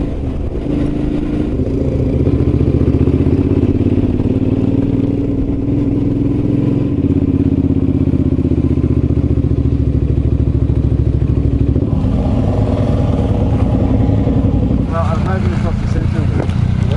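A Suzuki adventure touring motorcycle rides on Australian backroads, its steady mid-pitched engine drone loud and continuous throughout, with wind rush and a brief shift in tone near the end; a voice talks over it.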